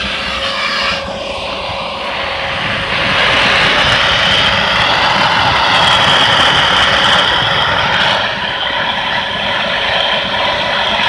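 A homemade suction machine for removing husks from bird seed runs with a steady, loud whirring drone, rising slightly in pitch and volume midway, with no talk over it.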